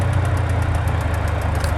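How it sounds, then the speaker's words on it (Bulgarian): A car engine idles close by with a steady low rumble and a faint rhythmic knocking pulse, like it is about to stall, with no talk. "Какъв е този звук, дето издава двигателя, се едно ще блокирва?"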